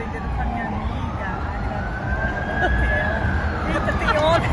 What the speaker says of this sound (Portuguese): Bem Nova York, só tem ambulância.